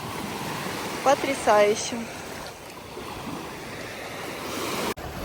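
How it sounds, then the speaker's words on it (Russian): Sea waves wash steadily onto the shore in Odessa, a broad continuous surf roar with wind noise, while a woman briefly exclaims early on. "Смотрю на море, и оно просто сегодня невероятное"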